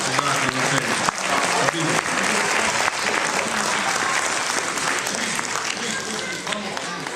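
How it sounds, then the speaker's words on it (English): An audience at a poetry gathering breaks into sustained, steady applause, a dense wash of clapping that fills the room at moderate level and holds throughout, with a voice speaking faintly over it. "Give yourself a round of applause."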